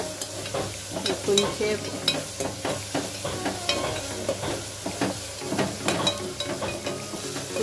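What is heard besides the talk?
frying fish in a pan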